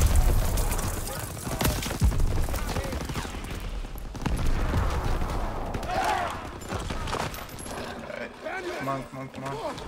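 A World War II battle rings with gunfire: repeated shots and rattling bursts, some near and loud, others farther off, under shouted voices throughout.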